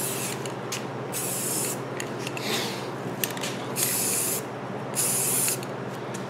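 Spray painting alloy wheels set on stands: a hissing aerosol spray comes in several bursts of a second or so each, with shorter taps between them, over a steady low hum, close and fairly loud, with no talking.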